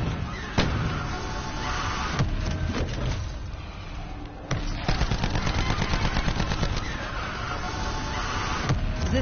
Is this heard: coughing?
no